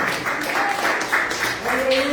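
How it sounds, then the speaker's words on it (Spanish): Church congregation applauding, a dense wash of clapping in a reverberant hall, steady and moderately loud, with a faint voice or tone underneath. "Denle fuerte aplauso al Señor en esta hora."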